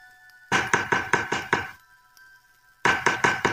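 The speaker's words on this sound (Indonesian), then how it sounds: "aku mengangkat tangan, lalu mengetuk pintu perlahan" Gentle knocking on a door, two quick sets of four to five knocks separated by a pause, close and distinct with no voices.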